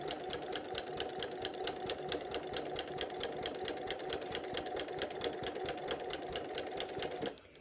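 A sewing machine quilts a placemat, close and loud, with a rapid, even chatter of needle strokes that runs steadily and then stops abruptly just before the end.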